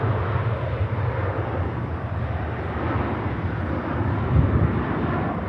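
Aircraft taxiing at Manchester Airport as a steady, low engine rumble heard from a distance, mixed with wind noise on the microphone and no voices.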